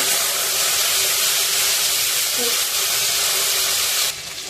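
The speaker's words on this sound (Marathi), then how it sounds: "तेल घालून झाल्यानंतर एक चमचा जिरं घालायचं आहे" Cumin seeds sizzle in about two large spoonfuls of hot oil at the start of a drumstick pulao, giving a loud, steady hiss that runs without a break and drops slightly near the end.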